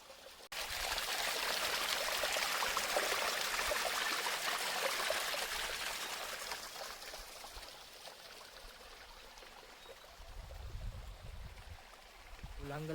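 Clean water pours steadily down a small stream on Hulangala hill, a continuous rushing hiss at close range that eases slightly toward the end.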